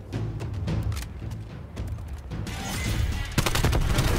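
Rapid automatic gunfire from an AK-74u or KSP 45 in Call of Duty Black Ops Cold War multiplayer, dense bursts of shots rattling continuously with a louder volley near the end, no talk.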